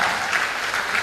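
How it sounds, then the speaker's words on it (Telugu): A church congregation claps loudly in unison, a dense burst of many hands beating in quick rhythm for a brief moment, close and full. "గట్టిగా చప్పట్లు కొట్టి గట్టిగా దేవుని మహిమపరుద్దాం"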